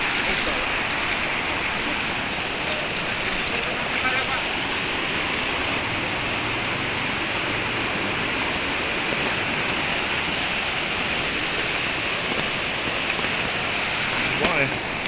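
Flood water rushes continuously through streets in Jakarta and Depok, a loud steady roar with muffled voices talking underneath.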